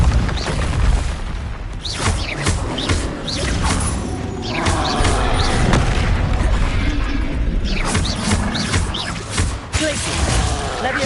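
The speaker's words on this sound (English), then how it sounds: "Depulso." Depulso force spells blast repeatedly in Hogwarts Legacy, loud whooshing booms and mechanical rumbles layered over busy game sound for the whole stretch, with a voice speaking at points.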